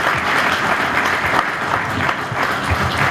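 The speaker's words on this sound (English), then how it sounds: "So nice round of applause for coming in," A crowd at an unveiling event gives a warm round of applause, steady and moderately loud clapping throughout a short burst.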